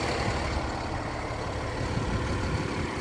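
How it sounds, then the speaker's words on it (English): Diesel engine of a 2020 Newmar Dutch Star 4020 Class A diesel pusher motorhome idling, a steady, dense low rumble with broad noise that holds at a constant level and is heard alone. "Engine, of course it's a diesel, but pretty quiet, honestly."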